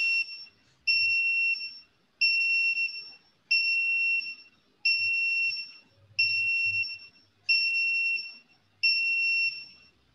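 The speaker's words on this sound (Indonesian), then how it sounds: "alarm berbunyi berputar dan conveyornya berhenti" An alarm on an IoT conveyor demonstration rig sounds as a shrill two-tone electronic beep, repeating in eight evenly spaced bursts of about one second each, loud and close, with faint background rumble between bursts and no talk.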